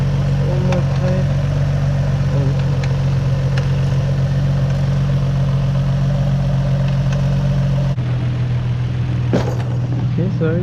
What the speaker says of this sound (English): everything seems to be idling good, I guess. Idle is ever so slightly high.